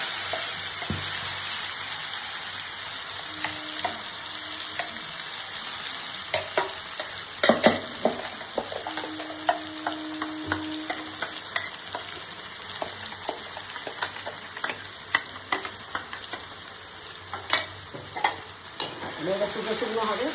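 Ground leaf paste (kharkol pata bata) frying with black cumin in a pan, a steady close sizzle under repeated scraping stir strokes, with a faint background hum and no talking.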